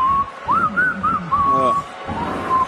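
A wrestler whistles a wavering, off-key tune on a WWE SmackDown broadcast, a thin, uneven whistle with short breaks, heard clearly and up close over a faint murmur of voices.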